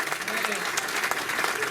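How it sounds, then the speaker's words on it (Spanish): A church congregation claps together in a dense, continuous burst of applause that fills the room, heard briefly with some voices mixed in. "Dale un aplauso rico a Jesucristo."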